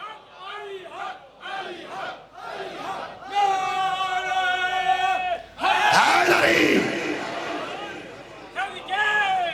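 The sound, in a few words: crowd chanting slogan in response at religious gathering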